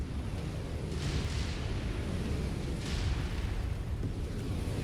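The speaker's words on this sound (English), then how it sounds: "I think those LRMs are coming from my dropship." Long-range missiles fired from a dropship explode across a battlefield in MechWarrior 5, a continuous dense rumble of distant blasts with two swelling bursts, heavy and steady throughout.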